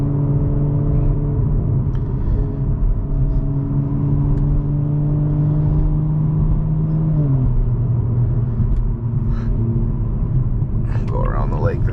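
A 2021 Toyota Supra with a muffler delete and downpipe drones with a loud, steady exhaust rumble while cruising, with the pitch dropping slightly partway through.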